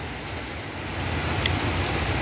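Steady rain falling in Phnom Penh, Cambodia during the rainy season, a continuous even hiss of drops on surfaces with a faint constant background drone and no voices.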